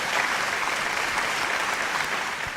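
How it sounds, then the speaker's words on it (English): A big round of applause from an audience at an institute gathering, dense continuous clapping from many hands, loud and sustained, tapering slightly at the end with no talk over it. "let me have a big round of applause. Let me see you putting your hands together and giving a big clap."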